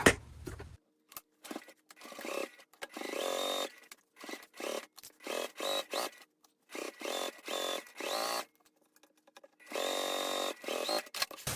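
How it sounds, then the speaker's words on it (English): Sewing machine running a seam on a laptop bag, repeated short whirring bursts of stitching separated by silent pauses, close and clear. "let's go ahead and sew this seam"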